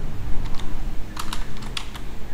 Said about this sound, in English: in my address bar, like here, I just type in Clever